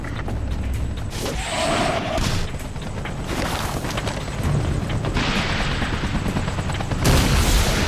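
Fighting in the Battlefield 2 Modern Combat war game: steady gunfire and booming explosions go on without a break, with louder blasts now and then and no voices.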